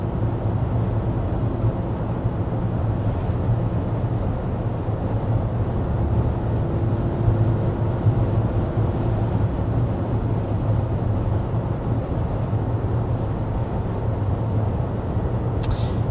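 Inside the cabin of a 2024 Volvo XC90 Recharge cruising at 55 mph, a low, steady rumble of road and tire noise with a faint whoosh of wind holds unchanged throughout, quiet and even.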